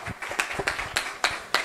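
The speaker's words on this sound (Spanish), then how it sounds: "pido un aplauso para el primer panelista" A seated audience at a progressive political forum in Brazil applauds as the first panelist is welcomed, the steady clapping close and fairly loud with sharp individual claps standing out.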